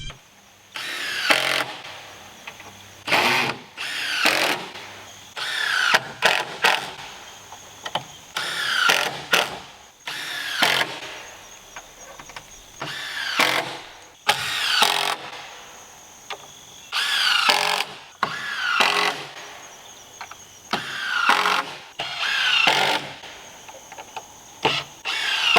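Power drill driving screws into wood from the back side of a knee board on a solar array build outdoors, in repeated bursts of whirring with short pauses between screws, loud and close, no talking.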